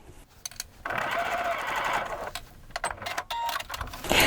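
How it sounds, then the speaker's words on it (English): A sewing machine stitches cording down onto a decorator pillow, running in bursts of rapid whirring that start, stop briefly and resume, close and moderately loud. "When I first start sewing this cording down"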